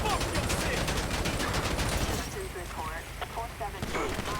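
Gunfire in GTA V crackles in dense rapid bursts, heavy and continuous at first, then thinning to scattered shots as someone talks excitedly over it.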